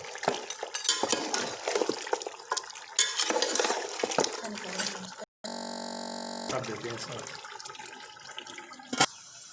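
Beef paya is stirred in a cooking pot, with wet scraping and clattering from the pot and a steady hum behind, broken by a short sharp cut partway through.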